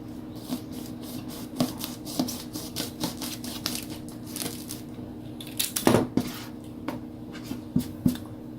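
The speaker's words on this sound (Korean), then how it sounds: "한번 내부는 어떨지 잘라 보겠습니다" A cigar is cut open by hand, producing a close, quiet series of scratchy rasping strokes and soft crackles of dry leaf, with a slightly louder crunch partway through.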